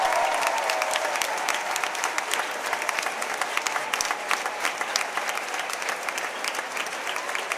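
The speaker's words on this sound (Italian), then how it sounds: "io credo che dobbiamo fare un grande applauso" Audience applause during a Mass at a student training school, steady dense clapping from a large congregation filling the space throughout, moderately loud with no talk over it.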